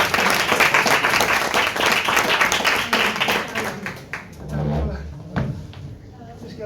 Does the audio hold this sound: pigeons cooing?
no